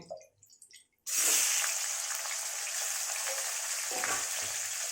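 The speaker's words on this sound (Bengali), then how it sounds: "এবার আমি আলুটা ভেজে নেব।" After a quiet second, a sudden burst of sizzling as potato pieces drop into hot oil, followed by steady frying hiss with small pops.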